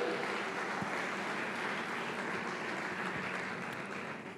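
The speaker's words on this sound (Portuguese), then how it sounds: "Dê uma salva de palmas e glorifica Ele" Applause from a church congregation, a steady dense wash of many hands clapping, fairly distant and moderately quiet, holding evenly throughout with no voices clearly standing out.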